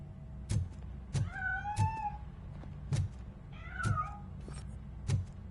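A video game cat meows several times from a hiding spot near a piano, with rising, wavering cries over a low rumbling background and sharp knocking clicks in between.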